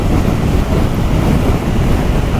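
Heavy, continuous roaring wind buffeting the microphone while riding a 2024 CFMoto NK800 Advanced naked motorcycle at speed, a dense unbroken rush that swamps everything else.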